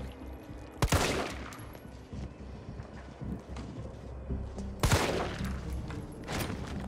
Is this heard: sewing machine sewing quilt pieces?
no